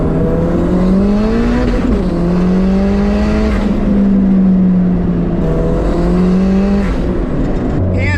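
A turbocharged car engine revs hard in repeated pulls, pitch climbing and dropping in loud, close surges with brief dips between, and no talking over it.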